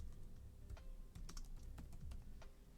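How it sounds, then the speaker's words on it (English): Fingers type quickly on a computer keyboard, a run of light clicks and taps close by over a quiet room hum. "And then you just hit enter in your keyboard."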